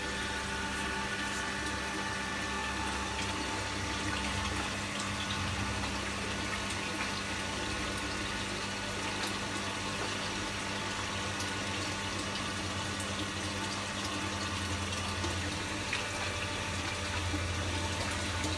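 A steady, continuous rush of water pumping through a drain, with a low mechanical hum underneath throughout, constant and unbroken.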